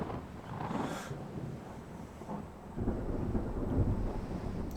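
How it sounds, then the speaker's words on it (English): Rolling thunder and rain of a storm in the naval video game World of Warships, a low rumbling wash that swells and grows heavier partway through, with no talking. "Bloody storms. Maybe it's the same storm."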